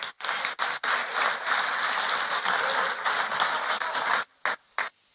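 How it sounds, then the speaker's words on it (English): An audience at a fundraising event for a hospital applauds a speaker being introduced, loud sustained clapping for about four seconds, then a few scattered claps trailing off. "So please, ladies and gentlemen, give him a big hands of applause, Mr. Sohail Firoz."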